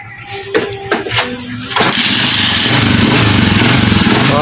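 A repaired motorcycle engine cranks with a few sputtering attempts, then catches and settles into a loud, steady idle close by.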